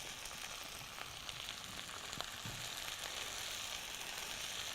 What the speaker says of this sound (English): Now you're gonna hear that sizzle.